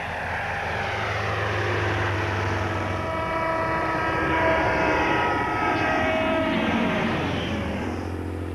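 A Bristol Fighter biplane from the First World War flying, its engine droning steadily and loudly with a shifting pitch throughout.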